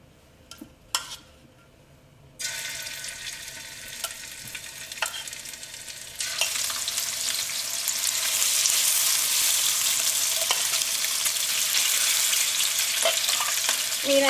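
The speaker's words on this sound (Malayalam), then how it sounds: "ഇനി നമുക്ക് മീൻ വറുത്തെടുക്കാം." Fish frying in hot oil for a fish pickle, a steady broadband sizzle that swells louder partway through, with a few stirring and utensil clicks near the start.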